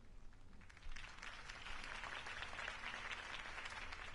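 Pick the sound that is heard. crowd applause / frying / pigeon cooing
crowd applause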